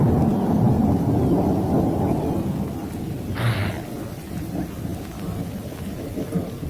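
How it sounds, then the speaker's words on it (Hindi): Steady summer rain pours over open savanna with a deep, rolling rumble of thunder beneath it. A brief sharper crackle breaks through midway before the downpour continues evenly. "और साथ में गर्मियों की बारिश।"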